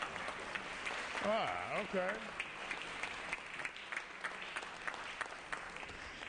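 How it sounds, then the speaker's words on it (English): Applause in a state assembly chamber during a floor session, a sustained patter of clapping from members with a brief spoken word and some voices over it. "Give them a round of applause."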